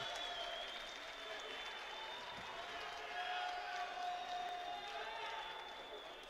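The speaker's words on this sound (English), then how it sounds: "Big cheer though for Slobodan Jovanovic." A boxing crowd at the AIBA World Championships cheers and applauds for Serbian 86 kg boxer Slobodan Jovanovic as he enters the red corner, a sustained, fairly even wash of clapping and cheering under a commentator's talk.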